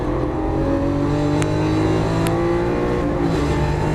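A Lamborghini Aventador engine drones loud and close as the driver brakes hard, with a sustained harmonic roar whose pitch slides gradually and two short sharp blips marking downshifts.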